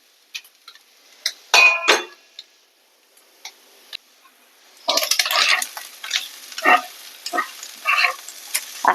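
A spatula scrapes and clicks against a pan as ash gourd pieces are stirred with salt and chilli powder, quiet taps at first, then a busier run of scraping strokes.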